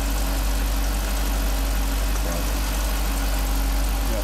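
A 2015 Jeep SRT engine idles at slightly raised revs after a Prins VSI 2.0 LPG autogas conversion, giving a steady, loud, close low rumble with a constant hum and no voices.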